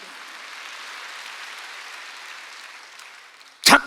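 A church congregation at a Wednesday service applauding, a dense, steady wash of clapping that slowly fades, ending with a sharp loud burst of sound at the close.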